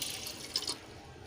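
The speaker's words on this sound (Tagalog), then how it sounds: "lagyan natin siya ng isang tasang tubig" Water splashes and pours briefly into a pot for moringa tea, a short hissing stream with a few drips, fairly quiet and close.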